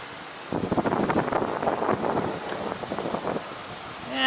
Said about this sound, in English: it's a bit windy here in Port Miami